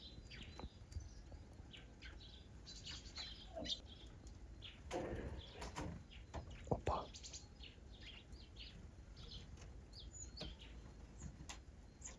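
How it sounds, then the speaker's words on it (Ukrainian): House sparrows chirp in a village yard, a scatter of faint, quick tweets coming and going at a distance over a quiet outdoor background. "Вон і горобці."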